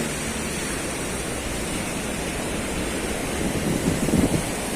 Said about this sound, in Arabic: ولسه في هواء ساقع، يعني ممكن تكونوا سامعين صوت الهواء